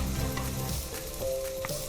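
Cashew and chickpea paste sautéing in a pan for kadala curry, a steady close sizzle and crackle of frying with faint stirring, no voices over it.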